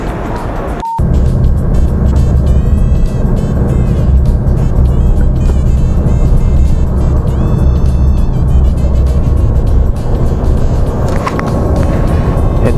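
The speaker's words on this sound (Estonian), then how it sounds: "Hetkel olen bussis" Interior of a moving city bus, a loud, steady engine and road rumble with rattling and passing traffic throughout, holding constant apart from one brief break near the start.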